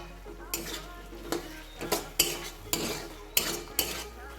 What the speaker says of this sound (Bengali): ছেড়ে ভালো করে নাড়িয়ে নেব, ভালো করে কষিয়ে নেব আলুটাকে